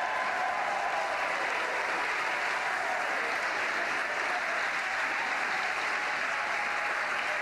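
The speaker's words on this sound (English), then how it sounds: "I believe the cheering in the background" Distant cheering and applause from a crowd during a SpaceX Falcon 9 launch, a continuous, quiet, even wash of clapping heard in the background without breaks.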